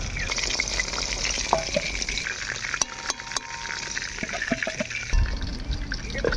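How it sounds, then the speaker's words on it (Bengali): Tuna fish pieces frying in mustard oil, a steady close sizzle and crackle with occasional stirring clatter and utensil knocks. "একইভাবে আমরা এরপরে মাছগুলো ভাজি নিব।"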